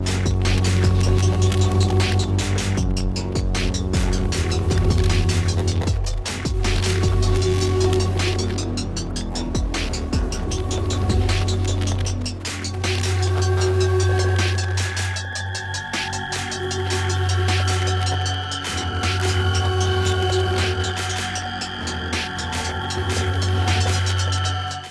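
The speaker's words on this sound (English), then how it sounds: "used ASMR Cave through some heavy distortion to create this cool sort of, clipped, ominous soundscape with some heavy drums over it." Heavily distorted, clipped ominous soundscape built in Ableton Note from processed samples, a dense droning hum with throbbing low tones and layered sustained pitches, loud and continuous throughout.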